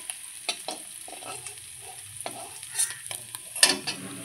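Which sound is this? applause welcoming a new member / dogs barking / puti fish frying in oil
puti fish frying in oil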